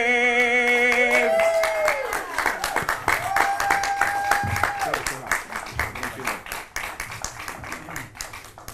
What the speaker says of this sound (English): Get another round of applause for Mr.